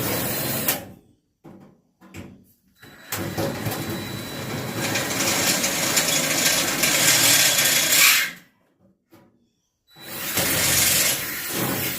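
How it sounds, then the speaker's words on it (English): Power drill driving into the frame during a bathtub installation, running in a few short bursts and then one long, loud whirring stretch before more brief bursts, close up and without talk. "All right, so let's drill this one."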